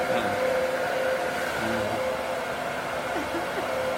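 A loud hair blow dryer runs continuously during a women's layered haircut, a steady whooshing roar with a high whine, faint voices murmuring beneath it.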